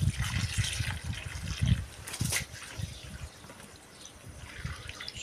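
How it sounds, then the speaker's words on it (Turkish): Fruit being washed by hand in a bowl of water while making jam, with splashing and trickling water in irregular bursts, close and moderately loud. "Şimdi bu suda güzel yıkayacağız."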